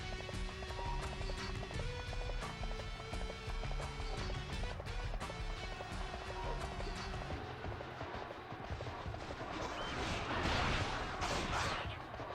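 Galloping horse hooves in the video game Dynasty Warriors 3 drum along steadily at close range under a dense, loud bed of battle noise, with no talk.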